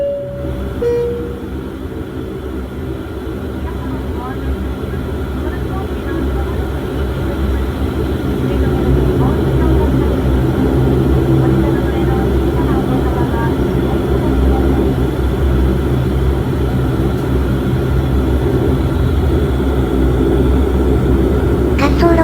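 Propeller airliner taxiing before takeoff on Japan's shortest air route between Minamidaito and Kitadaito, a loud steady engine drone heard from inside the cabin that swells slightly partway through.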